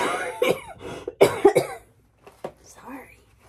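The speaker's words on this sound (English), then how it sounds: "I was doing all right with the coughing today, too" A woman coughs in several sharp bursts, close and clear, with a throat-clearing sound and softer breaths between the fits.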